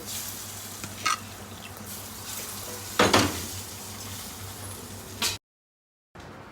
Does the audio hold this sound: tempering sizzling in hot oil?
yes